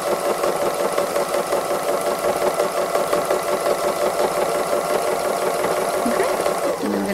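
A sewing machine stitches free motion embroidery on a robin design, a rapid, steady mechanical whirr running close and continuous for several seconds with no talk.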